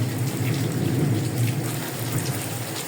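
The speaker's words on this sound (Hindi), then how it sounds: "और तेज़ होगी बारिश ना" Heavy rain pours steadily in Faisalabad, a dense, even wash of falling water that holds at the same strength throughout without a break.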